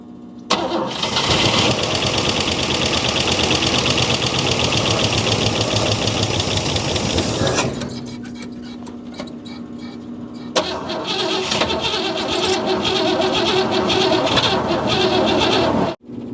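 A 1957 Oldsmobile Rocket engine cranking and catching after sitting 30 years, roaring loudly and rough, dropping briefly to a faltering idle, then revving hard again before cutting off; close and alone without talk.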